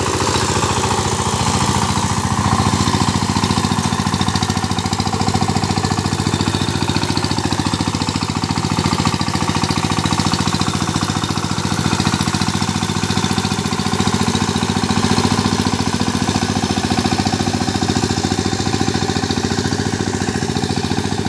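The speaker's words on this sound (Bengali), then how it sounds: "ACI 18 blade power tiller সানচাই 20 HP diesel engine দিয়ে" An ACI 18-blade power tiller driven by a Changchai 20 HP diesel engine ploughs a muddy field, its loud, close, steady chugging drone running continuously with a rhythmic clatter and no talk.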